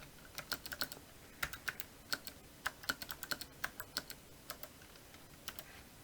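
Code being typed into a MATLAB script on a computer keyboard: irregular quick clusters of crisp key clicks, close and fairly quiet, with no talk.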